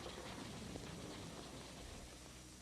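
Steady rumbling thunder blends with rain during a storm, a continuous low roll with hissing rain that holds even, then slightly softens toward the end.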